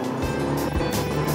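A Yamaha F60 four-stroke outboard on a Quintrex Dory Blade 520 aluminium boat runs loud and close at speed, a steady engine drone with a slight shift in tone as the motor is trimmed.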